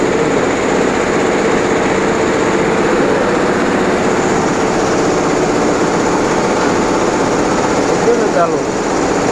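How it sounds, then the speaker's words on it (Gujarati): Multi-needle saree embroidery machine on a third floor, a 7-needle slider type, running with a steady, dense mechanical whir and rattle that fills the whole stretch without pause. "ત્રીજા માળે મશીન ચાલુ કરીએ છીએ, સાડી હાલવાની છે"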